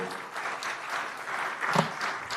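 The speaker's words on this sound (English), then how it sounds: "Round of applause to our CM." Audience applause for the Penang Chief Minister during a political speech on Penang heritage brands, a short burst of steady crowd clapping at moderate level with a faint voice mixed in.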